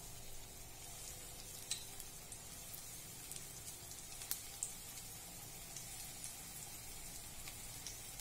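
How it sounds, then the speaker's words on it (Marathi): Bread and cream biscuit pieces fry in hot oil, a steady soft sizzle with faint crackles and pops throughout, and no one talking. "आता हे सर्व पीस आपण फ्राय करून घेऊया।"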